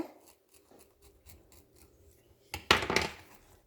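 An egg sandwich cooked in a pan is cut open, with soft scraping and rubbing sounds building to a brief, louder crunchy slice near the end.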